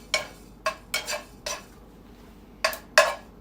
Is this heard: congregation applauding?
no